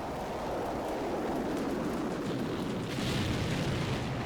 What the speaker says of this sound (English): we had a artillery strike. It sounds like a Nebelwerfer